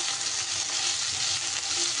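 Chopped medium tomatoes hit a pan of frying okra, setting off a loud, steady sizzle that fills the whole stretch, close up, with faint stirring underneath and no voices.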